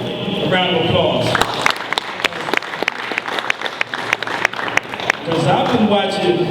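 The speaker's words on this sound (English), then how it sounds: "A round of applause." Audience applause at a community talk on police violence: a voice speaks at first, then a close, sustained patter of many hands clapping, before talk resumes over the last of it.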